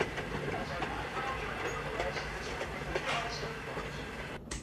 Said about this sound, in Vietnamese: Steam train.